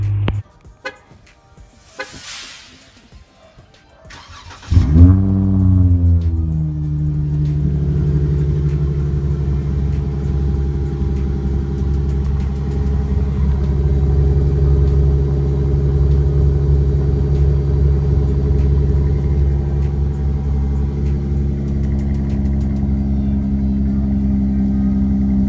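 A Dodge Charger engine, close and loud: quiet movement and a brief high whine give way to a sharp rev around five seconds, then a sustained, throaty high idle hum holds steady to the end.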